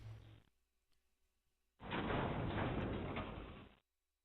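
Double doors swing open in the Resident Evil 0 video game with a loud, rushing two-second burst that begins suddenly and cuts off cleanly. A brief low thud comes before it, and nobody speaks.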